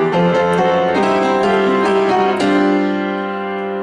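Piano plays the intro riff of a rock song, with steady rhythmic chords and bass notes sounding alone, loud and close.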